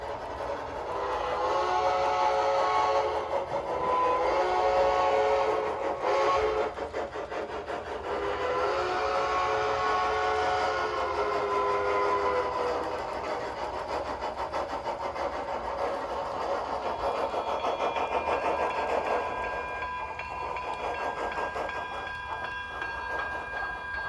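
Broadway Limited PRR T1 4-4-4-4 model steam locomotive running with simulated wheel slip: sustained mechanical train sound with whistle-like tones and rapid rhythmic chuffing, steady and fairly loud throughout, no talk.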